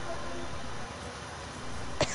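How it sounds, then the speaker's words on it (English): A single short cough near the end of a quiet stretch of faint room noise, close and brief. "I'm just coughing"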